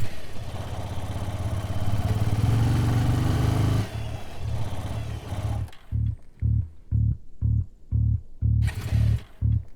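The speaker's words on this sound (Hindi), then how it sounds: "पेट्रोल तो है, फिर भी बाइक बंद हो गई।" A motorcycle engine runs roughly, then falters and chugs in a string of uneven pulses as it stalls and fails to keep going, close and loud with a short pause between bursts.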